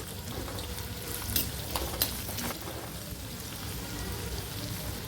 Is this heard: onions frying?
yes